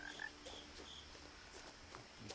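Frog croaks from What Remains of Edith Finch come as a few scattered, fairly faint calls over a soft night ambience with insects.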